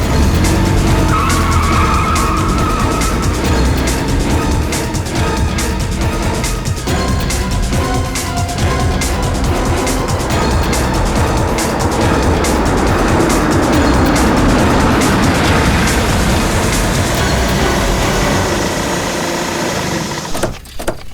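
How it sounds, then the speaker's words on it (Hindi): A car runs hard with loud engine noise and repeated tire skidding and squealing throughout, a sustained rough roar at close range. "गाड़ी स्टार्ट करो"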